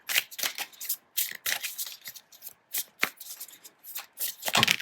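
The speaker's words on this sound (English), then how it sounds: "Oops, I'm shuffling." Tarot cards being shuffled by hand in quick, uneven bursts of crisp riffling and slapping, close and fairly quiet, with no talking.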